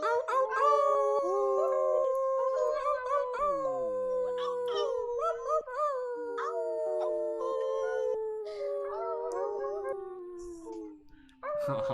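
A group of people voicing wolf howls at a full moon gathering, many overlapping long wavering cries rising and falling together for several seconds, voices imitating the animal rather than real wolves.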